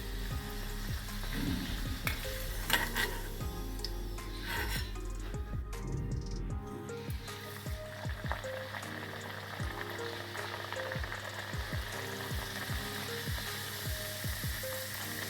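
Mung dal masala puris deep fry in hot oil with a continuous bubbling sizzle, punctuated by sharp clicks and clatter from a spoon or strainer, close and moderately quiet with no talk.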